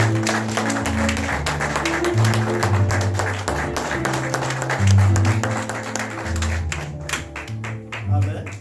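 Audience at a French-language evangelical church service claps and cheers as the evangelist steps forward, steady clapping under music with a sustained low instrumental backing throughout.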